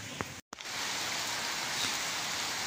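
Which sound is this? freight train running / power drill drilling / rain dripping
rain dripping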